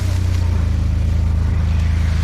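A tractor engine labors uphill through an olive grove, a steady low rumbling drone with a regular pulsing throb, close and loud throughout.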